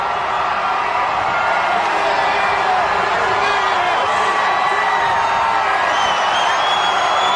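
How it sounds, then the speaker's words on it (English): A huge Times Square crowd cheers and whoops in the final seconds before the 1993 New Year ball drop, a dense continuous roar of many voices heard at a distance. "Listen to that crowd."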